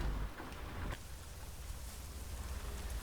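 Steady rain hissing in the video game American Truck Simulator, with a low rumbling undertone and a brief swell near the start, no voices.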